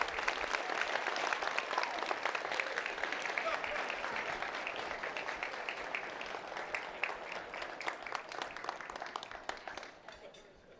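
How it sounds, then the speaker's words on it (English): Sustained applause from a gala audience, dense and steady clapping that fills the whole stretch, fading slightly toward the end, with scattered voices mixed in. "please join me in giving a very hearty round of applause"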